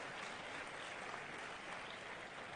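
An audience applauds a stage of senior leaders at an Indore gathering, a dense, steady wash of clapping that holds at a constant level for a few seconds.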